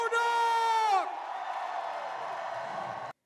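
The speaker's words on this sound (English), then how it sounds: "clap your hands, stomp your feet, and give it up for your senator for 6 more years, Senator Reverend Raphael Warnock!" At a rally for Senator Raphael Warnock, a loud, sustained whoop leads into a broad roar of crowd cheering that holds steady for two seconds and then cuts off abruptly.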